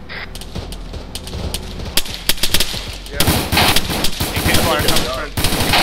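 Machine gun fire in the Arma 3 military game comes in loud, sharp bursts of rapid shots, growing denser and heavier toward the end, with radio-style voices talking over it.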